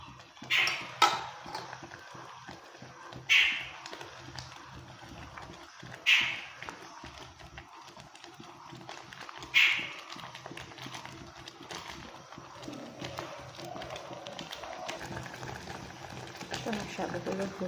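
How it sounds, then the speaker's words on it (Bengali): Sago pearls boil in a pot, with soft bubbling and a few distinct louder pops every few seconds over a low simmer. A voice speaks faintly in the background. "আমার সাবুগুলো ফুটতেছে"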